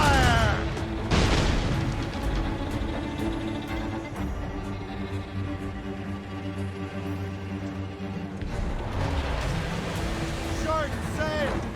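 Broadside of ship cannons fired in Assassin's Creed Rogue naval combat: heavy booms and crashing impacts near the start and again near the end, with a low rumble between and shouted crew voices over the firing.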